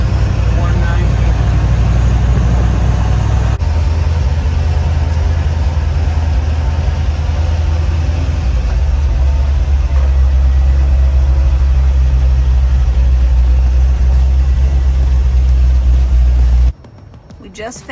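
1968 Chevrolet Suburban engine running steadily through its first drive in years, a loud low rumble that continues throughout with occasional shifts in tone before cutting off near the end, with voices talking over it.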